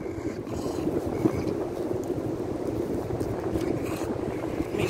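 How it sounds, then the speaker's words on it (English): Steady wind blowing outdoors, a continuous low, rumbling roar buffeting the microphone, with no one speaking. "it's real windy out here"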